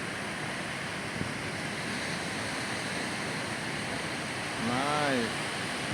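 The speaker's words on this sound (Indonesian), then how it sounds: "Ombak Pantai Kuta bikin kangen" Ocean surf rolls in at Kuta Beach, Bali: a steady, broad wash of breaking waves and wind roar with no clear breaks. A short voiced call rises briefly near the end.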